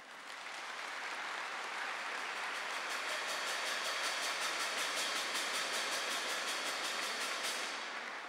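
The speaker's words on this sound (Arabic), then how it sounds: "صفقوا جميعاً" A congregation at an Easter Saturday Divine Liturgy of the Chaldean parish in Jordan claps steadily and densely, the applause building, holding for several seconds, then fading out.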